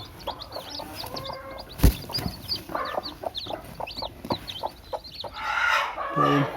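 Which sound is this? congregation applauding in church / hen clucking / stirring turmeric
hen clucking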